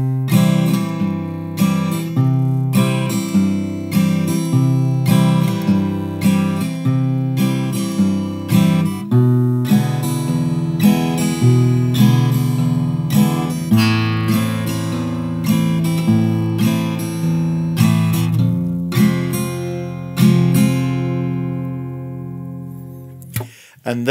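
Steady acoustic guitar strumming of the verse of a song, single bass notes followed by down-up strums with easy chords, played alone at moderate loudness for about twenty seconds.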